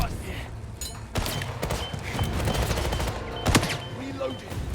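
Gunfire in the video game 007 First Light, a dense run of shots and bursts with sharp loud cracks around the middle and near the end, under raised voices in a busy combat scene.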